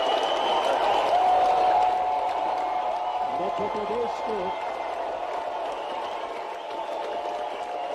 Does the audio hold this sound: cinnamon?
no